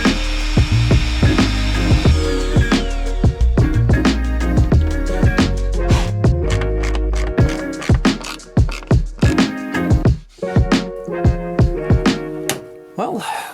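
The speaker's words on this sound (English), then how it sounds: "try out this routing accessory that I got for my Dremel last year" Dremel rotary tool fitted with a routing accessory cutting into wood on a small boat, giving a steady high whine with repeated sharp scraping bursts and brief pauses toward the end, close and loud.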